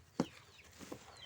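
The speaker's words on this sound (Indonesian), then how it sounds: "teman-teman bisa saksikan bagaimana rakusnya ayam-ayam kita di sini ketika diberi pakan fermentasi" Chickens feeding greedily on fermented feed made from waste, with one sharp nearby cluck followed by a softer cluck and faint background clucking, quiet overall.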